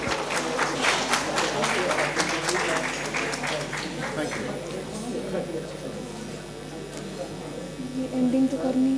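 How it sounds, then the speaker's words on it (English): Audience applause at a hospitality HR summit felicitation, steady clapping filling a hall with an electrical hum beneath, fading somewhat then swelling again near the end. "Please give a huge round of applause,"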